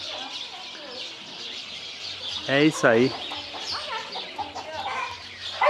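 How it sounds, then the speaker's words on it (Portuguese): Birds call and chirp in a busy outdoor chorus, with a loud burst of clucking fowl-like calls in the middle, while a person speaks briefly in Portuguese. "É o canto, né, dos pássaros."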